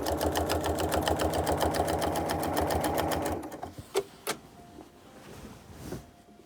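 A sewing machine stitches in the ditch on a memorial quilt, a fast steady mechanical clatter of rapid needle strokes that stops partway through, leaving a few small clicks and handling sounds.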